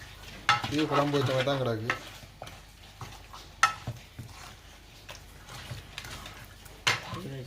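Fish curry stirred in a pot for a Jaffna village dish cooked without oil, scraping spoon strokes and a soft simmering sizzle, with a person talking over several bursts.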